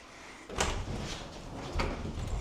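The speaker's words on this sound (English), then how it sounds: "He's going to let me know that he's going to throw the door." A door thrown open during a two-man close-quarters room-entry drill, two sharp bangs about a second apart, each followed by a short rattle, fairly close with no talking.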